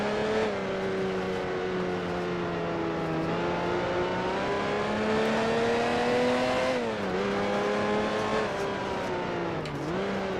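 Racing car engines from the Grand Prix Legends sim roar continuously at high revs, a steady loud drone whose pitch dips and rises with gear changes and braking, with several cars running close together.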